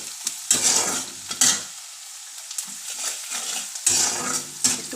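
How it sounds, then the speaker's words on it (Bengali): Jackfruit seed mixture sizzling and frying in a pan, with repeated scraping and stirring strokes of a utensil against the pan over a steady hiss, close up. "এবার এটাকে আমি ভালো করে ভেজে নেব।"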